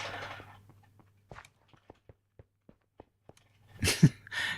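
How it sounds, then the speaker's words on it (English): A cat rummages inside a cardboard box stuffed with crumpled cardboard, giving a series of sharp, evenly spaced crinkling clicks and rustles, with a louder scuffling burst near the end. "one of the cats has decided to get into a cardboard box that's full of screwed up cardboard"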